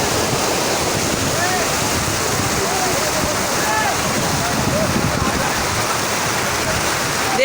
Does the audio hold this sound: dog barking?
no